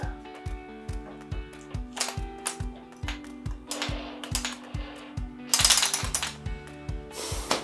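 A homemade organic escapement mechanism ticks as its wheel turns, with steady, evenly spaced ratcheting clicks, close and clear, and a brief rattling burst partway through.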